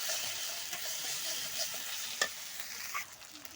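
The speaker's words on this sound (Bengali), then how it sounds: "মশলাটা ভাজা ভাজা হয়ে গেছে" Spice paste with salt and turmeric frying in a pan, a soft continuous sizzle close by with a few stirring scrapes, fairly quiet and with no one talking.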